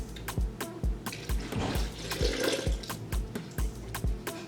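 Half a cup of water poured into a mixing bowl while making stuffed plantain crepes, a splashing stream in the middle under a steady, regular thumping beat.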